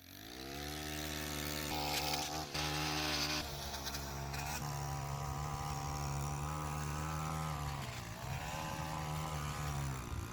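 Petrol lawn edger cutting along a yard's grass edge: a loud, continuous close engine drone with a steady buzzing hum and slight pitch shifts throughout, no voices.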